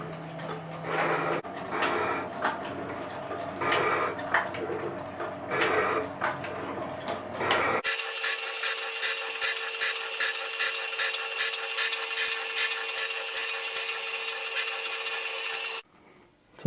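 A metal shaper machines a lathe part down to size, its cutting strokes running as a steady, rhythmic mechanical clatter at close range, with the tone shifting partway through to a denser, regular pulsing drone before stopping abruptly near the end.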